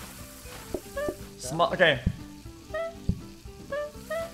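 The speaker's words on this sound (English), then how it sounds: "Deep fry that shit." Food deep frying in the cooking video game PlateUp, a sizzling crackle with short pings and chimes of game effects, while a person speaks briefly.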